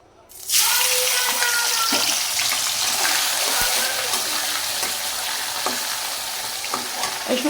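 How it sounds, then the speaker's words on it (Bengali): Soaked, washed dried fish drops into hot oil in a home kitchen and bursts into a loud, dense, continuous sizzle that holds steady with faint clinks of stirring. "তো আমি প্রথমেই শুটকিটা তেলে দিয়ে দিই।"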